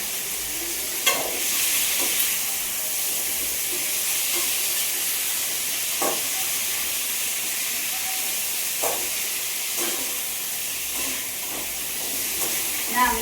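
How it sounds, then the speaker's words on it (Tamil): Boiled potatoes being stirred and fried into poriyal in a pan make a constant loud sizzle and hiss, with occasional scraping stirs and faint voices underneath. "உருளைக்கிழங்கு பொரியல். உருளைக்கிழங்கு வேக வச்சுருக்கோம்."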